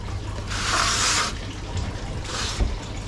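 Water pours into a small pool for a pet sailfin dragon, two bursts of splashing flow from a tap or jug, close and moderately loud against a quiet indoor background.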